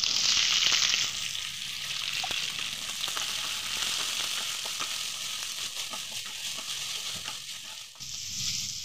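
Green peas hit a hot wok with a loud hiss, then a steady sizzle continues as the food is stirred and scraped.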